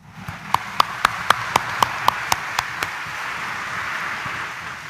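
A church congregation claps during a homily in an even unison rhythm, about ten sharp, evenly spaced claps over a steady room hum before fading out.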